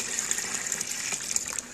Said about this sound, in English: if I pour water in, it's still gonna, you know, move the gravel around a little bit